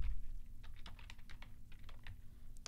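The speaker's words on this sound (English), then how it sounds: "so I type that in" Keys on a computer keyboard clack in quick irregular bursts of typing, close and fairly crisp, with short pauses between clusters and no voices.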